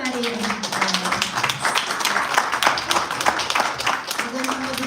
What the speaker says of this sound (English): let's give Tita Perla Habari a round of applause.